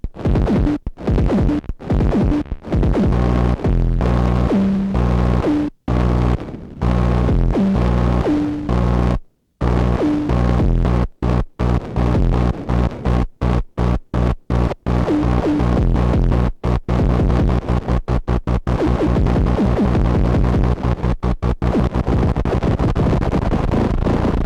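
A Moog DFAM analog drum synthesizer runs a looping sequence of deep, throbbing pulses. The tempo shifts from slow to rapid and back again, with brief gaps where it stops, loud and alone.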